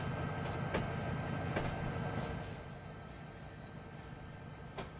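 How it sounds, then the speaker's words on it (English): A train rumbles along the tracks in Train Simulator 2019 with a GP20 locomotive, a continuous low rolling drone broken by a few sharp rail clicks, heard alone at moderate level. "Like the way that train goes through like a snake, eh?"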